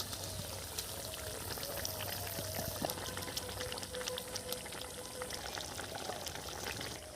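Small mourola fish tip into a simmering spicy curry with a soft splash and pour, followed by a faint continuous bubbling of the pot, close and quiet.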